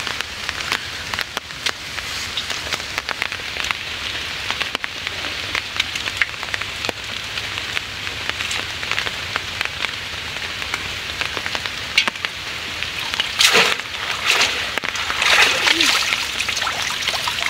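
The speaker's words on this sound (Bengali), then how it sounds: "এখন বৃষ্টি পড়ে দেখেন ফোটা ফোটা বৃষ্টি পড়ে" Heavy rain pours over the Sundarbans forest during shrimp fishing with bamboo traps, a dense continuous patter of drops and splashes, with voices speaking over it and a few louder nearby splatters toward the end.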